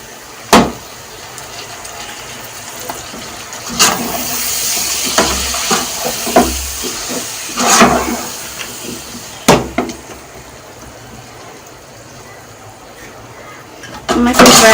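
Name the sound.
chopped tomatoes added and frying in a pan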